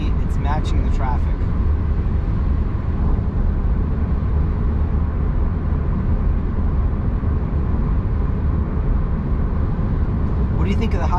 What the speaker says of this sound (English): What do you think of the highway noise level on this Highland? It's still a little bit noisy.